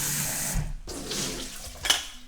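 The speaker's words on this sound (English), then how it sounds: "I'm going to put some water," Water splashes and runs into a pot of rice in short bursts, with faint clinks of metal nearby.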